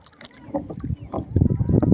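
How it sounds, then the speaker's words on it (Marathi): Oars working a wooden rowboat on a river, with rhythmic splashes and knocks building louder toward the end, outdoors amid light wind. "विघ्नेश तुमका दाखवता कशी होडी चालवतात ते।"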